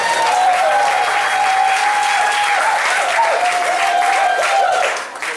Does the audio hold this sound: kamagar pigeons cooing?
no